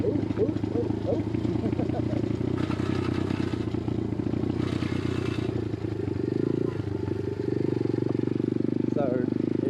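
Motorcycle riding up a small hill, with a steady close engine drone and rattling chatter throughout, the pitch shifting partway through, and a person speaking over it.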